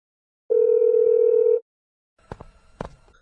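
A telephone dial tone sounds while a call is being placed: one steady electronic tone holds for about a second and stops, then a few sharp clicks and taps follow. No one speaks.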